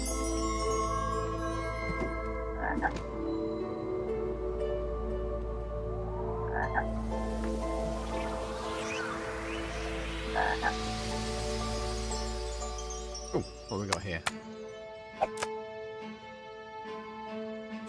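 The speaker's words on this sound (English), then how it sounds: "Oh, little froggy." In the video game Lost in Play, a frog croaks repeatedly over a steady bed of game music and ambience, with a few sharper clicks near the end and no speech.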